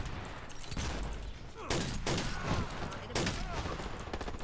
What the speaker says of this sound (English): Okay, so I guess I gotta shoot multiple shots with this gun.